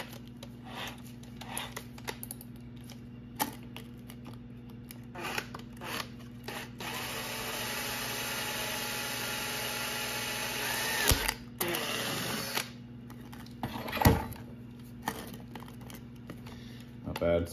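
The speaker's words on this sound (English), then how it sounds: "Sometimes when you drill hard plastic like this, cracks it." A power drill bores through a hard plastic jam jar lid, a steady whirring grind that rises as the bit bites, with a sharp crack near the end and occasional talk.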